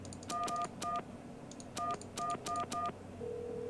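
A phone number is dialed on a video game's in-game telephone: a quick run of clear two-tone keypad beeps in short uneven bursts, followed by a steady tone rising at the end, fairly quiet, with no talking.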